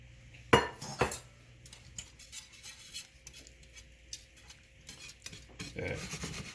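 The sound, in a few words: stirring eggs, cheese and cream for frittata in pan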